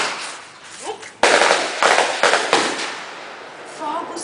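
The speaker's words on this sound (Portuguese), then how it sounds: "Fogos, filho." Fireworks or firecrackers go off in a rapid series of sharp, loud crackling bursts, close and harsh, with a voice briefly heard around them.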